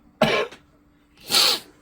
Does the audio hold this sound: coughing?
yes